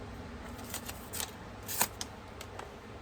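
Scissors snipping through paper pages during bookbinding, a series of soft, irregular crisp cuts, close and quiet.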